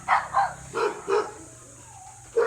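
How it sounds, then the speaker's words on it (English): A dog in a cage gives about four sharp barks in a burst, followed by a brief pause. One more bark comes at the end, close and fairly loud. There is no talking over it. "oh, my dog's playing here"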